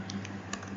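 Numbers being typed on a computer keyboard, heard as a few soft, close key taps over a steady low hum.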